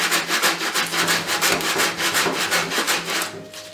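Coarse-grit sandpaper rubs back and forth over wood on a junk ukulele being made into a lamp, in loud, close, rhythmic strokes about four per second.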